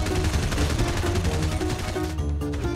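Dense, loud rapid-fire gunfire from a multiplayer video game fills the whole stretch, continuous bursts layered over one another with no talking.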